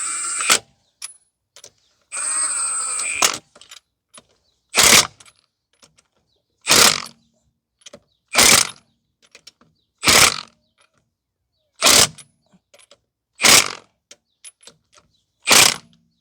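A Milwaukee M18 Fuel 1/2-inch high-torque impact wrench is feathered on the trigger, giving a series of short, evenly spaced hammering bursts after an initial longer run, each separated by silence.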